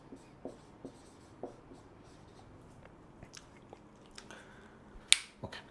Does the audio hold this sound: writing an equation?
yes